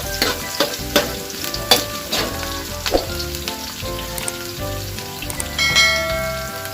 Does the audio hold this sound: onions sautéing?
yes